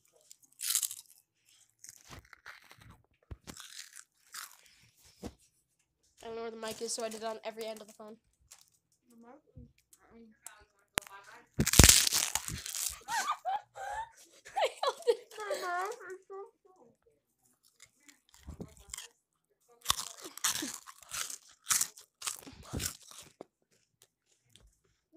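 Crunchy food is bitten and chewed close to the mic in a series of sharp crunches spread across the clip, with talking and giggling in between.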